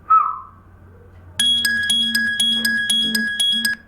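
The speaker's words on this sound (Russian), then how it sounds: "Видите, телефон проработал, сработал, отозвался на ваш свист." A brief human whistle is followed by an Android phone's whistle-finder app answering with a bright, repeating electronic melody of clipped, evenly spaced tones.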